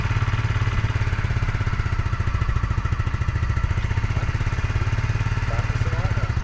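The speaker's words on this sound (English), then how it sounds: "go ahead and start your bike" A motorcycle engine runs steadily at idle during a riding lesson, a continuous low chugging throb with faint voices in the background.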